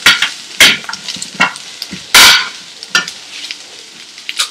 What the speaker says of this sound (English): keep stirring this occasionally so that they get roasted equally